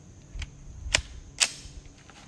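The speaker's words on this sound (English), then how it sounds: "So I'm gonna stop talking and sling some lead down range." Shots from a pistol with a stabilizer kit ring out at an outdoor range: three sharp, fairly faint cracks spaced about half a second apart, with nobody talking.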